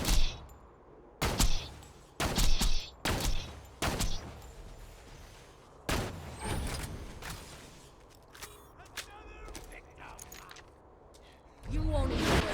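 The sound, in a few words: gunfire in video game Borderlands 3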